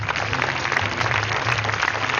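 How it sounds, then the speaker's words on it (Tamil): A studio audience on a Tamil television game show claps steadily in a dense, continuous patter for a couple of seconds. "கைத்தட்ட சொல்லுமா எல்லாத்தையும்."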